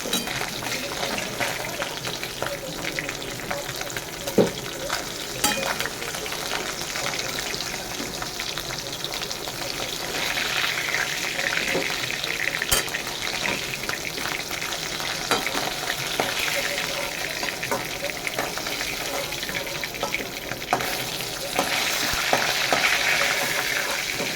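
Large snakehead fish sizzle in hot oil, a steady crackling fry running throughout with occasional clinks and stirring noises, close and fairly loud.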